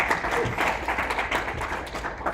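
Applause from a conference audience at the close of a PHP developer talk, a steady wash of many hands clapping at moderate loudness for a couple of seconds without a break.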